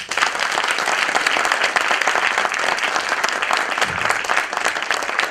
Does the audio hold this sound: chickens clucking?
no